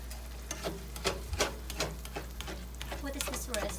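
Onions and meat for chili cook together in a pot while a spoon stirs and scrapes in quick, uneven strokes over a low sizzle and a steady low hum.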